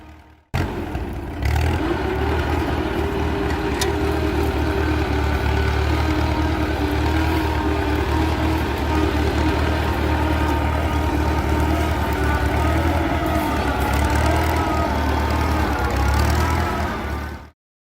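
A Fordson Model tractor engine starts up and settles into a steady, loud, rumbling idle with a clattering mechanical beat, running continuously and close by.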